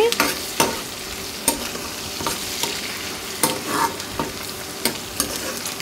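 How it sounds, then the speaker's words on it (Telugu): Onions sizzling and frying in a pan with a little salt, stirred with a ladle; a continuous close hiss punctuated by regular scraping knocks of the ladle against the pan. "ఇలా కలిపేసి 1 నిమిషం ఫ్రై అవనివ్వండి"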